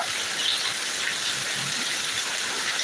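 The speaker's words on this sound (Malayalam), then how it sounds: "നല്ലൊരു അടിപൊളി മഴയാണ് പെയ്യുന്നുണ്ട് കിടില മഴ" Heavy rain pours down in Thiruvananthapuram, a dense, constant hiss of falling water at steady loudness with no breaks.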